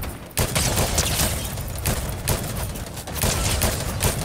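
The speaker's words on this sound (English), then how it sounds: "They're shooting at me." Heavy gunfire in a team-based 3v3 video game match, a loud, dense, continuous fusillade of rapid shots that fills nearly the whole stretch, briefly dipping only at the very start.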